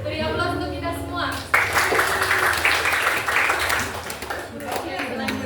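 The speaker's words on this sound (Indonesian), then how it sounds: "Beri aplaus untuk kita semua." Applause breaks out in a classroom during a Grade 10 math lesson, a burst of many hands clapping that swells after a quieter stretch of room noise, holds for about three seconds, then fades.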